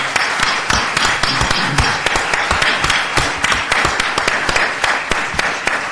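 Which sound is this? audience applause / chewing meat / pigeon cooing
audience applause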